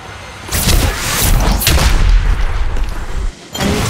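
Sustained loud gunfire from a mobile shooter video game on iPhone, dense overlapping shots and booms rolling continuously with a brief dip near the end before firing resumes.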